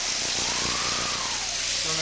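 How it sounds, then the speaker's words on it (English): Stage rain effect produced by lifting a theatrical device, giving a steady broadband hiss of falling-water patter that runs continuously and fairly close for about two seconds, with no speech over it. "If I lift this, here there's rain."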